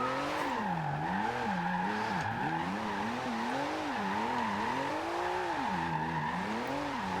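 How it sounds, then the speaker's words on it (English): A Porsche 911 GT2 RS in a racing game holds a long, sustained drift with its rear tires spinning, the engine note rising and falling in steady waves over a continuous loud tire squeal, with no voices. "I can actually spin the back wheels and keep them sliding now for as long as I want"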